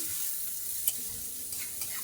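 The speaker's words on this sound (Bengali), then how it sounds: "পেঁয়াজটা আমি 2 মিনিটের মতো ভেজে নিয়েছি" Steady sizzling of onions frying in a pan over medium-low heat, a continuous hiss with a few soft clinks of stirring, no voices.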